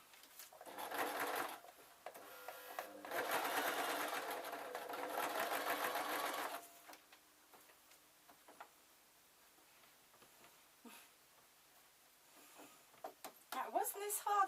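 A sewing machine stitches jester slippers in two bursts of rapid, steady whirring and ticking, then falls quiet; softer handling clicks and rustles follow, with brief knocks near the end.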